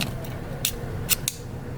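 A vintage squeeze lighter under restoration gives a few sharp metallic clicks, two close together near the end, each brief and crisp over a quiet background.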